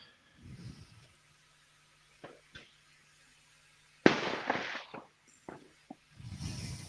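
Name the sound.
fireworks going off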